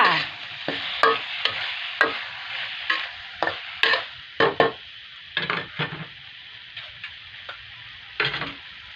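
Large king oyster mushrooms stir-fried with fish sauce, seasoning powder and chili in a pan give quiet sizzling under a string of sharp, irregular utensil clacks and scrapes as the mix is tossed, with no talking.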